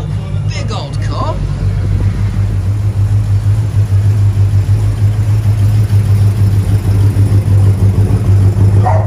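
A big old Pontiac Bonneville rolls in at a car meet, its engine a deep, steady rumble, close and loud throughout, with a short burst of voices near the start.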